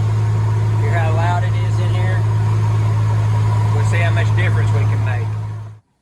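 A 1966 Ford Travel Wagon's engine and exhaust drone loudly inside the cabin, a heavy low steady rumble with a voice talking over it before the sound cuts off abruptly near the end.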